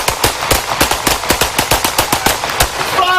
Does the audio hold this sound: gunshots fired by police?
yes